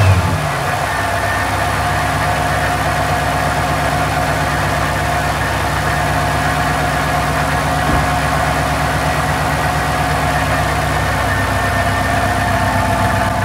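A car engine idles steadily after a motor failure, a close, even low rumble with a faint vibration that holds for about thirteen seconds without talk.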